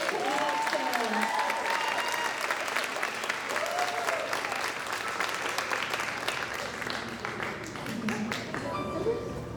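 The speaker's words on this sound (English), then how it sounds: "let's have a round of applause for our tiny Miss contestants" Sustained audience applause for young pageant contestants at a small-town Miss Grayslake pageant, a steady dense wash of clapping across the whole stretch, with some whistles and cheers mixed in.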